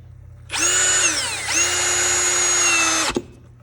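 A power drill drives a screw into a weathered timber nightstand. One loud whining run drops in pitch as the screw bites, briefly pauses, then spins steadily again before stopping with a click.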